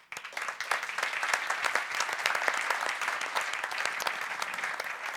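Audience applause at the Grand Prix de la Com' awards ceremony, a fairly quiet but sustained wash of many hands clapping, steady throughout without voices.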